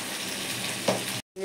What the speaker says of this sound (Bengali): ভাজা ভাজা হোক এগুলো।